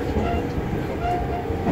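An IGR 7000 series train passes through Morioka station alongside the IGR Iwate Galaxy Railway platforms, giving a continuous, moderately loud rolling rumble with faint rail clatter.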